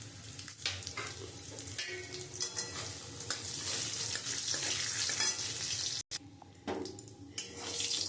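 Whole cumin, bay leaf, garam masala and two dried chilies sizzle and fry in a kadai for chicken kosha, with steady crackling, stirring scrapes and a brief cut near the end.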